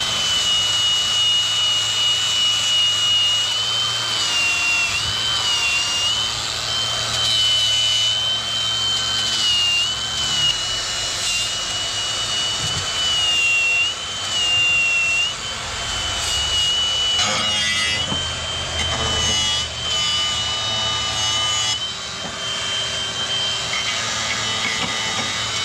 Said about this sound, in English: So I clean this up the best I can with a strip disc.